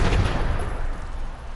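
Sustained automatic fire from a quad-barrel weapon in Fallout 76, a dense low rumble of rapid shots running continuously at steady loudness with no pauses.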